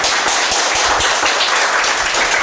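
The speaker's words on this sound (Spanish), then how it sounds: "Un aplauso." Applause at a Spanish-language talk event celebrating a speaker's 81st birthday, a dense loud wash of many hands clapping close up for a few seconds with no voices over it.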